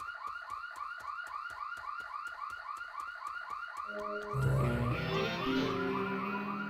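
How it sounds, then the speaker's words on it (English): A security alarm in the video game Killer7 rings out in a fast, even pulsing pattern of repeated electronic tones, then deeper rumbling game sounds swell in underneath it toward the end. "The security alarm is a fun enough sound."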